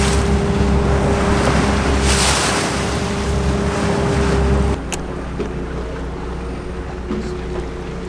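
A steady low engine drone and rushing water and wind noise fill the deck of a ferry crossing to the Outer Banks, loud and continuous, with the drone shifting and dropping slightly partway through.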